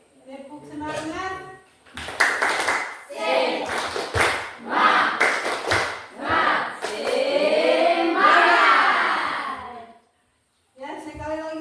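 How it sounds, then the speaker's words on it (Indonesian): A group of children performs a rhythmic clap-and-chant routine called tepuk semangat, with bursts of clapping in patterned beats alternating with shouted chanting, ending in a brief pause and more voices. "Sebelum kita mulai, kita tepuk semangat dulu ya. Oke, tepuk semangat."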